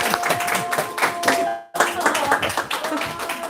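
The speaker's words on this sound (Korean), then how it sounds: "박수!" A small group claps at a church mission forum gathering, a loose patter of hands with a brief pause midway, mixed with voices talking over it.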